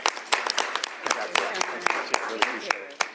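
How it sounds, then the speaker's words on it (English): An audience at a governor's bill signing gives a round of applause for the bill's sponsors, crisp overlapping claps running steadily throughout while a voice talks over them. "Give them a round of applause for their leadership on this bill as we sign it into law."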